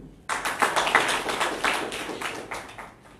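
An audience applauds in a full 200-seat hall: dense, steady clapping starts sharply, holds for about three seconds and then tapers slightly, with no voices over it.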